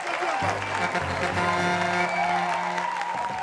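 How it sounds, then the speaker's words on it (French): Studio audience applause on a French live show, a brief even burst of clapping heard under sustained music tones for about three seconds. "on va l'applaudir très fort, s'il vous plaît"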